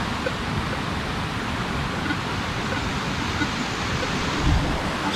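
Water pours down at the site of an old 1800s mill, producing a constant broadband roar like a small waterfall, steady and fairly close with a brief low thump near the end.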